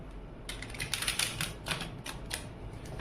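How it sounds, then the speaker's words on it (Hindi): Tarot cards being shuffled by hand, a run of crisp papery riffles and flicks in quick bursts, close and fairly soft, with no talking. "तो चलिए कार्ड शफल करते हैं"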